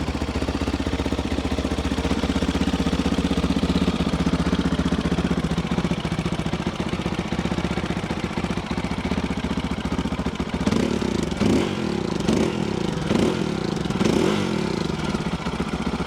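A new Fantic Caballero 500 Rally DOHC motorcycle engine runs loudly and steadily nearby, with a few sharp revs and clattering toward the end.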